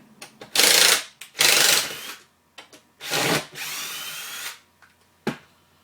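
A power drill backs screws out of the dust collection cover on a homemade belt sander, giving four close, loud whirring bursts with short pauses and small clicks between them. No one speaks.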